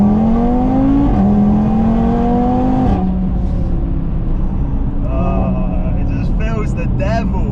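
A tuned Audi TT RS with APR Stage 2 and a five-cylinder engine accelerates hard on kick down, the engine note climbing in pitch, shifting, then climbing again before easing off, with talk over it at the end.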